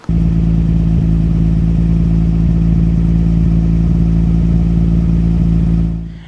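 A steady, loud exhaust rumble from an R33 Nissan Skyline GT-R with an RB26 engine and Fujitsubo exhaust, a low droning tone that holds constant for about six seconds, then cuts off abruptly.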